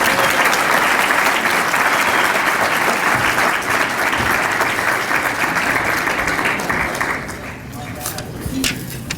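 A school symposium audience applauds to welcome the superintendent of Quincy Public Schools. The dense, loud clapping is sustained for several seconds, then thins and tapers at the end, where a voice briefly begins.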